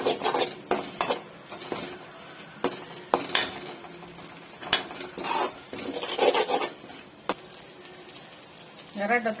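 A spoon scrapes and clatters against a pan while prawn thokku masala is stirred, with irregular metallic knocks and soft scraping at moderate distance, under faint speech.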